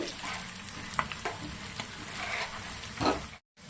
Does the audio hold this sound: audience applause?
no